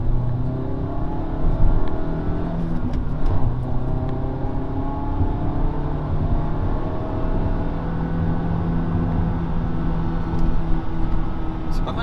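A Honda Jazz city car's engine drones steadily as it accelerates hard toward high revs, a continuous loud hum with rising tones heard from inside the cabin.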